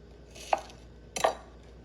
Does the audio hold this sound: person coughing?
no